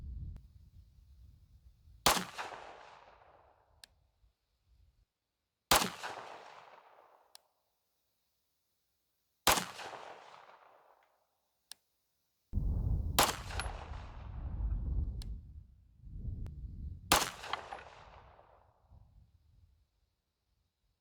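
Five loud 9mm pistol shots from a Canik fitted with a red dot, firing Browning X-Point 147-grain defensive rounds, spaced several seconds apart, each with a sharp crack and a lingering outdoor echo.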